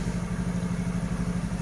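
A Honda Scoopy scooter with its starter just repaired after a dirty CKP sensor fault idles close by, a steady low, even putter with a light mechanical clatter and no talking.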